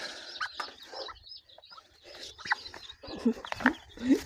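Farmyard duck sitting on a nest of eggs as ducklings hatch, giving soft, uneven clucking and quacking calls close by in bursts, with faint peeping and quiet rustling between them.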